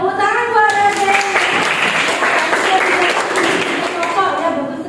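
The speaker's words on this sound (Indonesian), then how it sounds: "Tepuk tangan buat Raden." Classroom applause for a student named Raden during a lesson, a steady patter of many hands clapping close by for about five seconds with a voice speaking over the start.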